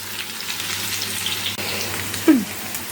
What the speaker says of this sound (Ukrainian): Швидко смажиться таке м'яско